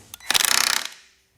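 A Milwaukee cordless nailer drives a nail with a rapid, fast-hammering burst of about a dozen sharp, close, loud mechanical blows lasting roughly half a second. The blows fade quickly into silence.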